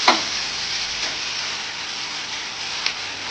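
Coriander and coconut sautéing in a pan for a mochai kottai kulambu masala, a steady close hissing sizzle with a few faint stirring clicks.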